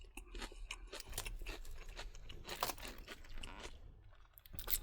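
Quiet, close crunching and chewing of tortilla chips from a Costco Santa Fe style chicken salad bowl with salsa ranch, a rapid irregular series of crisp bites and crackles with no talking.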